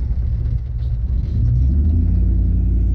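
A 1947 Ford with a 1UZ VVTi V8 swapped in idles with a steady, deep low rumble up close. It runs smoothly, with a slight lift in loudness partway through and no talking.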